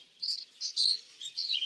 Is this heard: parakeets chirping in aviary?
yes